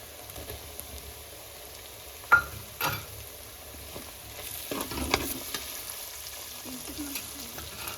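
Tomatoes go into browned masala for a chana palak curry, a soft sizzle of frying with a couple of sharp clinks and scrapes of a spoon stirring the pan, quiet and close.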